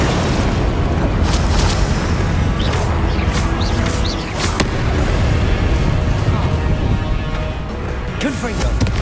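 Confringo fire spell explosions in the Hogwarts Legacy video game, dense booming blasts and crackling impacts layered over a loud, continuous game soundtrack during a duel, with a voice calling out spell names.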